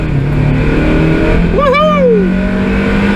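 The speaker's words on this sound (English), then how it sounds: "It revs a little bit higher." A Mazda MX5 Mk2 NB runs with a continuous engine drone from inside the car, under a person's excited whooping shout.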